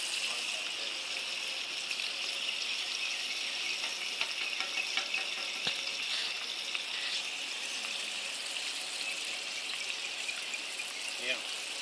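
A batch of trout fries in a pan with a steady, close hiss and sizzle, marked by occasional pops and crackles throughout.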